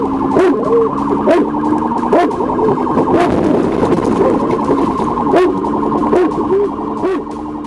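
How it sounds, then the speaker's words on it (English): A police car's siren wails loudly and continuously in repeating rising-falling cycles during a high-speed pursuit on Arkansas roads, with a faint voice briefly underneath. "Emergency lights and siren were immediately activated."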